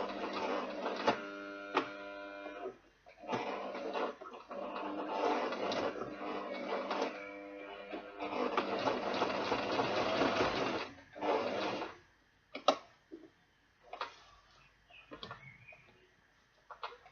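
A sewing machine stitches through an ankara fabric and leather bag in a series of rapid mechanical runs, starting and stopping, its rattling hum loud and close, with brief clicks and handling noises in the pauses.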